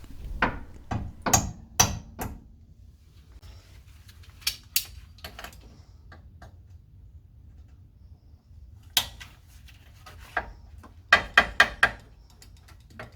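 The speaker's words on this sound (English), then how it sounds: "I'm using a combination of my needle nose pliers and a hammer and vice grips" Needle nose pliers, a hammer and vice grips working a stubborn cotter pin on a C3 Corvette lower control arm, heard as irregular sharp metallic clicks and taps in clusters with quiet gaps between them, close by and without talk.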